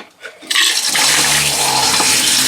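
Toilet in a 2007 Puma travel trailer flushing during winterizing, a loud close rush of water that starts abruptly after a faint moment and roars steadily to the end.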